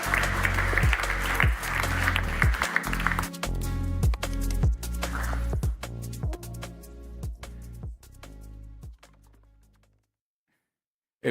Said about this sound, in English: please give a big round of applause for our keynote speaker, Fatih Birol